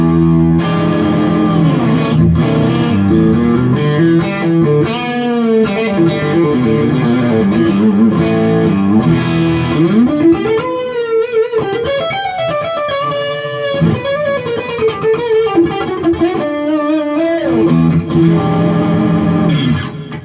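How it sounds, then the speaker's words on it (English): A 2018 Gibson SG Standard HP electric guitar in the middle pickup position with the neck pickup coil-tapped, played through distortion and effects as a loud, sustained melodic lead with bends and fast runs, no talk. "Middle position, neck pickup, tapped, split, whichever it is."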